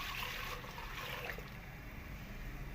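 Water pours steadily into a cooking pot while making dhaba-style kadhi pakora, a soft continuous splashing hiss heard faintly and alone.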